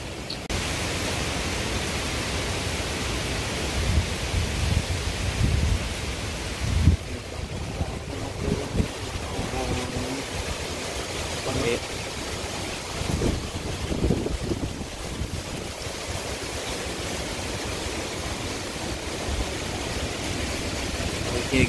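Strong wind from Hurricane Dorian roars past a highway, a steady hissing blast buffeting the microphone with gusty low thumps, loud and continuous with no voices.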